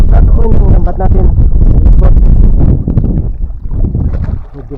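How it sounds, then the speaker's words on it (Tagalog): Strong northeast monsoon wind by the shore buffets the microphone in loud, rumbling gusts, with a voice speaking through it before the gusts ease slightly. "Medyo mahangin talaga yung amihan. Malakas."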